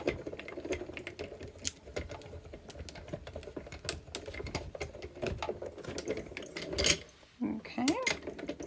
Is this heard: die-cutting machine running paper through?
yes